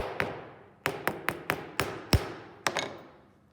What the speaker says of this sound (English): Gently hit it with my wooden hammer